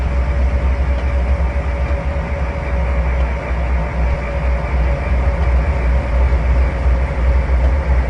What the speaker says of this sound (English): So this is a unit train with nothing but intermodal cars on it.